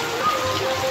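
Steady heavy rain hisses across the whole moment as a dense, even wash with no gaps, loud and close, with no voices over it.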